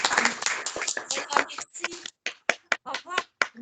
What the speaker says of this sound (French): Et je crois qu'on peut s'applaudir.